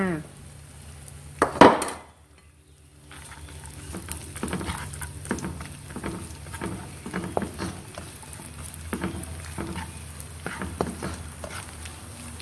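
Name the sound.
meat frying in a pan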